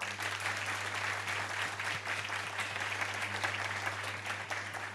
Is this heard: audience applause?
yes